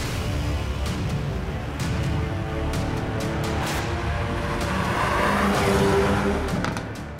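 Hyundai i30 Fastback N Performance on the road, a steady engine drone and tire roar that swells toward the end, with brief sharp clicks and knocks breaking through along the way.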